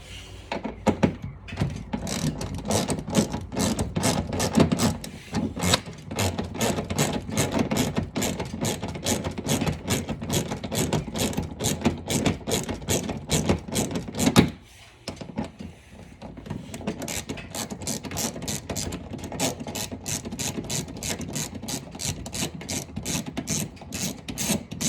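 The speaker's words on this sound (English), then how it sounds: "Now these are fairly long screws, so they do take a while to remove." Long screws backed out of a Dodge Challenger splash guard with a power driver, heard as a long run of rapid, even ratcheting clicks close to the mic, with a brief pause partway through, steady throughout and no talking.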